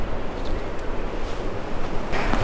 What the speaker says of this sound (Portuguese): O vento tá bom, né? Fresquinho, né?